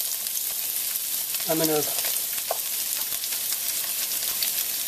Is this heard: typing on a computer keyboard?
no